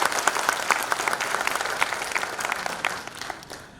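An audience at an education award ceremony breaks into loud, dense applause in a hall, sustained clapping that tapers off toward the end.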